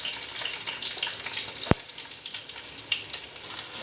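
Onion and curry leaves fry in oil in a kadai, a steady, bright sizzle and crackle throughout with one sharp click midway and no talking.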